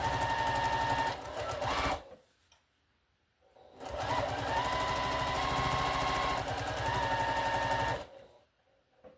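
A sewing machine back stitches a string potholder made of fabric strips, running loud and close in two steady bursts with a short pause between them and no voices.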